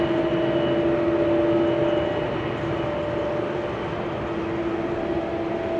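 A KLM Boeing 737-800 airliner lines up on the runway at Amsterdam Schiphol, its engines giving a steady droning whine with tonal hums, fairly loud and continuous, heard without any talk over it.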